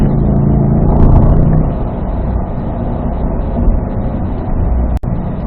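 C8 Corvette accelerating on a race track, a loud steady engine drone close by that holds even and strong, easing slightly after the first second or two, with a brief dropout near the end.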